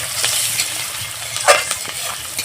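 Chopped onion and green chilli frying in oil for a Bengali rohu fish-head muri ghonto, with a steady soft sizzle and a few faint stirring scrapes and clinks, no talking.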